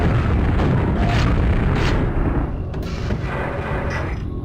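Booming grenade explosions in the video game Quake, several heavy rumbling blasts in quick succession, loud and close at first and then thinning to lighter bursts.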